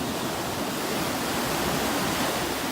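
Ocean surf washes steadily onto the beach at Sayulita, Mexico, a constant broad roar of breaking waves, close and loud with no voices.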